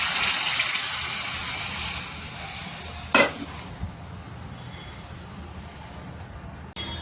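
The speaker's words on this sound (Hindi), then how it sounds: "अब चलिए हम लगा देते हैं अपनी कढ़ी में एक तड़का।" Tadka tempering being poured into kadhi, a loud, steady sizzling hiss that slowly fades, broken once by a short metallic clank midway.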